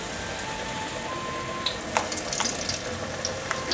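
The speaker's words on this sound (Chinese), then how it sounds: "把金针菇沾上酥炸粉，然后用手把前面拨开，放入锅内炸" Batter-coated enoki mushrooms deep-fry in hot oil, a steady low sizzle with scattered sharp crackles and pops growing busier toward the end, close and fairly quiet.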